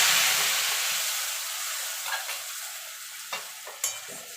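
Turmeric and chili hit hot mustard oil with frying spices, giving a steady close sizzle and hiss that slowly eases, broken by a few short scraping stirs near the end.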